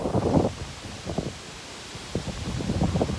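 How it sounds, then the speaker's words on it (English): Gusty wind from tropical storm Barry buffets the microphone in rough low bursts that rise, ease off in the middle, then pick up again, with no voices. "Another gust."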